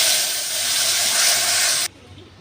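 Boiled lentils hit a hot pan of oil with white mustard seeds, giving a loud, dense sizzling hiss that holds steady for about two seconds and then abruptly drops to a faint simmer.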